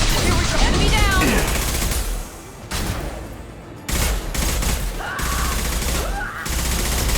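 Gunfire in the video game Mass Effect 2: sharp bursts of shots, loud and close, in a dense volley that drops out briefly twice before the firing resumes, with voices calling out over the fight.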